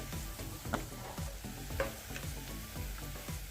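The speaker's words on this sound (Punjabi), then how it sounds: "ਮੈਂ ਦੂਜੀ ਵਾਰੀ ਪਾ ਰਿਹਾ ਪਕੌੜੇ" Pakoras for Punjabi kadhi pakora sizzling steadily in hot oil as they are fried a second time, with a soft continuous crackle broken by regular stirring scrapes and clinks, close by and with no talk.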